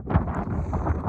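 Wind gusting at an exposed cold campsite, a steady low roar buffeting the microphone with rising and falling rushes throughout, loud and close with no talking.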